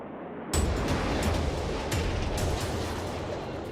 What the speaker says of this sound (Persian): به سرعت موشک رو شلیک میکنه